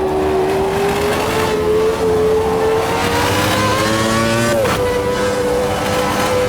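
Race car engine in the sim racing game Automobilista 2, loud and close, a sustained high whine climbing slowly in pitch before dropping briefly at a gear change, then holding steady.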